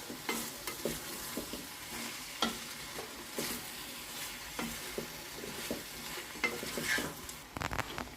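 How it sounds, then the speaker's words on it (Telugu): A spoon scrapes and stirs eggplant and green chili curry in a hot pan, giving repeated clacks and scrapes over a soft, steady sizzle, close and clear with no talking. "ఇప్పుడు ఒకసారి బాగా కలుపుకున్నాం దీన్ని."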